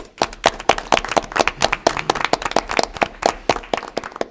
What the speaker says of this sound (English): I think we owe a big round of applause